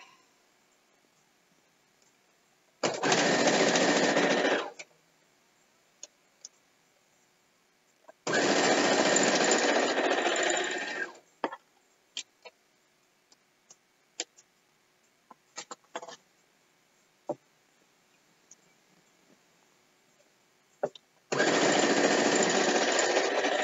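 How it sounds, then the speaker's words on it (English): A sewing machine runs in three separate bursts of steady rapid stitching, with faint clicks and handling taps in the quiet gaps between. "whenever I'm using the sewing machine"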